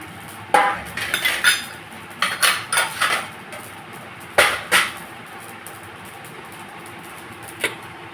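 Spices for a traditional mango and lasoda pickle being dry-roasted in a pan, with scraping and clinking against the metal in irregular bursts, some quick runs of strokes and some single knocks, close up with no talking.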